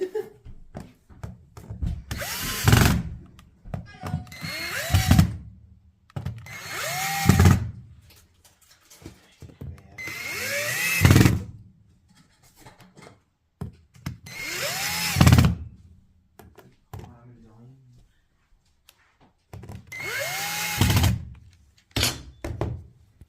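A power drill drives screws into the drawer channels of an IKEA Storklinta chest of drawers. Six close, loud whirring bursts rise in pitch and end in thunks, separated by short pauses.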